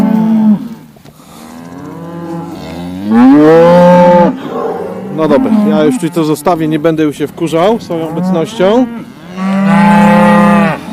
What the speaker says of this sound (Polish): Patrz jaka wściekłość krów.